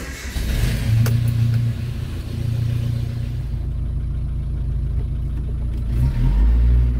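A Nissan D21 Hardbody pickup pulls away on a test drive, its mid-pitched engine rumbling and revving steadily from inside the cab, with a brief bump of throttle near the end.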